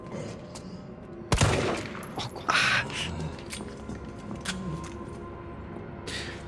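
Gunfire from the Resident Evil 3 Remake demo on Xbox: one loud close blast near the start, a second burst shortly after, then scattered quieter game sounds and footsteps under a steady background.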